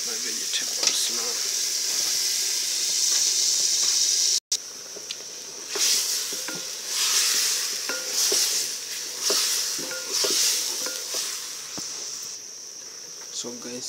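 Vegetables for an ugali meal cook in a pot in an African village, a steady loud sizzle and hiss with intermittent stirring clatter, crickets and outdoor ambience faintly beneath.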